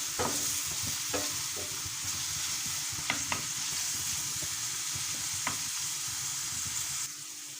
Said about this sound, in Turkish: Biraz bunu kavuracağım.